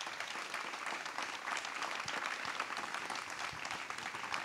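A dense, sustained wash of audience applause in a hall after speakers at a talk on the future of Catholicism, many hands clapping steadily at an even loudness throughout.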